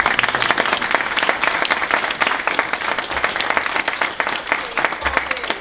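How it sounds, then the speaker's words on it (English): An audience at an improvement-method report-out applauding, a sustained dense wash of many hands clapping, loud and even from start to finish. "this lot deserve a round of applause for the work that's done"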